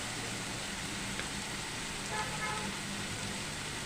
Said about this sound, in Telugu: ఇప్పుడు మన ఆనియన్ టొమాటో మసాలా ఫ్రై అయిపోయిందండి.